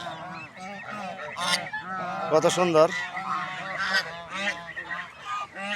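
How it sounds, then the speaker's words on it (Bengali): Domestic geese honk repeatedly in a loud, overlapping chorus close by, with a voice speaking briefly amid the calls. "অসাধারণ সুন্দর রাজহাঁস"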